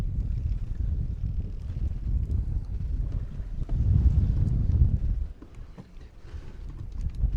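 Strong wind gusting over open water on a fishing trip, a steady low roar of wind buffeting the microphone that swells louder midway before easing off, with no talking.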